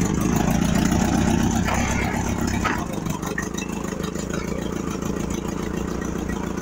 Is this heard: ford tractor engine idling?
yes